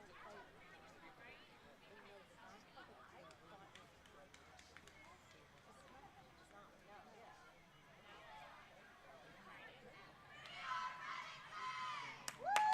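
At a prep school field hockey championship in Montclair, New Jersey, a commentator talks over faint crowd murmur until Pennington fans break into a louder burst of cheering and shouting toward the end.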